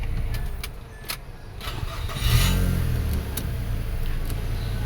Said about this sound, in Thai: เดี๋ยวกุญแจบิดออนนะครับ แต่ติดนะครับเป็นอันสมบูรณ์ทั้งสองดอกนะครับ